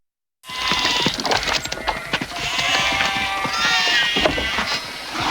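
Sheep bleating in the 1994 Windows game Lassie: Interactive Moviebook, several overlapping calls from a flock with hoof-like clatter and busy farmyard noise, loud and continuous.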